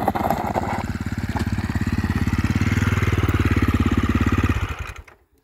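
An SWM Superdual T single-cylinder motorcycle engine runs with a steady, throbbing thump, loud and close, holding an even pace before cutting off abruptly near the end.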